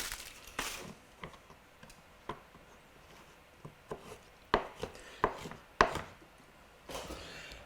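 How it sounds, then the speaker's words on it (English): Knife chopping through a block of Lindt white chocolate gives sharp, separate thuds and clicks at an irregular pace, close up, with no talk. "so to help it melt, I'm just going to cut it up."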